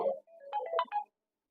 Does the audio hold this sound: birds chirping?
no